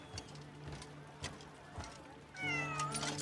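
A cat in the video game Crimson Desert gives a clear rising-and-falling meow near the end, after quieter game ambience with a few soft clops and thumps.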